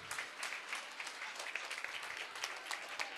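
Audience at a nursery and primary school annual day claps continuously. The dense, even applause is fairly soft and distant, with faint voices mixed in.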